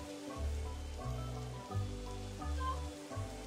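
Steady, even rain falls in the video game Minecraft, a soft continuous hiss beneath low, sustained tones that shift every second or so.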